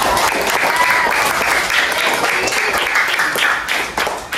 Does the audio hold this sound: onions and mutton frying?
no